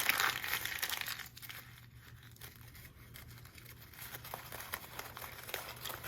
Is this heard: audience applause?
no